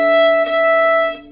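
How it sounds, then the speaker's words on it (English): A single violin note bowed too close to the bridge, thin and glassy with a whistling, brittle edge, held about a second before cutting off. "So if you're putting your bow too close to the bridge"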